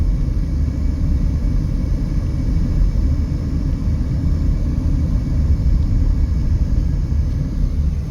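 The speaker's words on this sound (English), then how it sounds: "So they are recipients of a lot of jet noise" Jet noise from nearby Nellis Air Force Base near Las Vegas comes through as a steady, low, distant rumble that neither rises nor fades.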